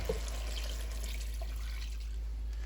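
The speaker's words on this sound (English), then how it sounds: "This is roughly 8 cups of water." Water, about eight cups, is poured into a soup pot over white beans and baking soda for lamb and white bean soup. There is a soft continuous splash and trickle, quiet and close, with a few brief drips.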